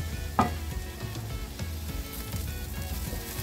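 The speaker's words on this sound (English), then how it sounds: "stir until it gets tender" Potatoes seasoned with salt and pepper fry in a pan with a soft, steady sizzle, broken by a sharp knock of a utensil early on and light stirring scrapes, fairly quiet and without speech.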